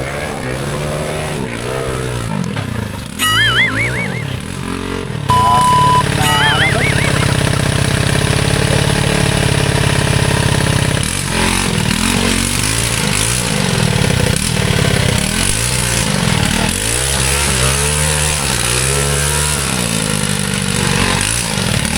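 Light trail motorcycles in a mountain trail challenge rev and rise and fall in pitch, several engines overlapping close by, with idling stretches and some talk mixed in.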